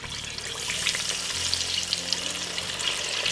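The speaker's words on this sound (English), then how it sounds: "I'm gonna just pop the fish in it and I'm gonna fry" Steady crackling and sizzling of fish frying in hot oil for Jamaican escovitch fish, with bright popping spatter throughout, close up and continuous.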